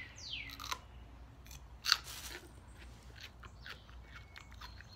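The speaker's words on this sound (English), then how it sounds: "this is a crunchy pepper" Close, crisp crunches of a raw serrano pepper being bitten and chewed, a few sharp snaps followed by softer chewing, with no talking.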